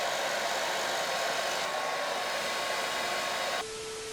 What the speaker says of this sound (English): I'm just gonna blow dry my hair and see what it looks like when it's dry.